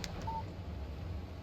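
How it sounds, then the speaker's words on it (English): A brief electronic phone alert for an incoming text message in the video game Alan Wake, a short tone over a steady low background hum, with no talking. "Text message from Barry."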